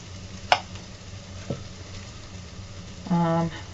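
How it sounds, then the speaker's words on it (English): Olive oil sizzling in a pan for a veggie stir fry, a soft continuous fry close by, broken by a couple of sharp utensil clicks and a short tonal scrape near the end. "I'm going to throw a little bit more olive oil in there."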